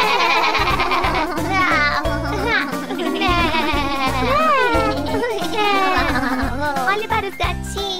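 Singers imitate a sheep's bleat, singing "mé, mé, mé" in Portuguese in a bouncy children's song about sheep on a tractor, with drums and music playing underneath.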